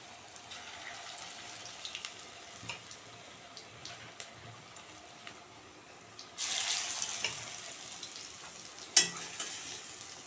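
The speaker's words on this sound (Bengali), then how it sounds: "তেলটা গরম হয়ে গেলে আমি একটা একটা করে ভেজে নেবো এগুলো" Oil heating in a pan ticks and crackles quietly, then batter-coated pieces dropped in one by one set off a sudden loud, sustained sizzle, with another sharp surge of bubbling a few seconds later.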